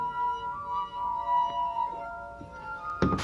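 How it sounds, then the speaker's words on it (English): A plain wine glass sings as a dampened finger rubs its rim. It gives a sustained, pure ringing tone that wavers slightly in loudness, and a brief clink or knock sounds near the end. "Taking a simple wine glass with a dampened finger"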